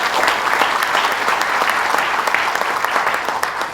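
Steady, dense audience applause fills a business council presentation in Bolton Landing, loud and continuous throughout with many overlapping claps.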